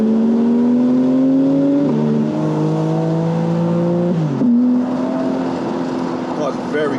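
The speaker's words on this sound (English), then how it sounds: "as soon as the turbos kick in, it's like the car just transforms" A BMW G82 M4 Competition accelerates hard through the gears, its engine note rising loud and close with each pull as the turbos come on boost, with brief drops at the shifts.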